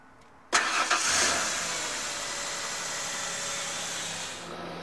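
A car engine cranks and catches with a sudden burst after a jump start from another running car, then settles into a steady idle hum at moderate loudness, with no voices.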